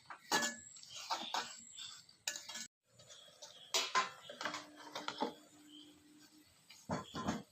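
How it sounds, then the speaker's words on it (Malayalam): Spoon scraping and clinking against a pan while food is stirred and mixed, in intermittent bursts with short pauses, fairly close and moderately loud, with no talking. "നല്ലോണം ഇളക്കി കൊടുക്കുക. നന്നായി ഒന്ന് മിക്സ് ചെയ്ത് യോജിപ്പിച്ച്"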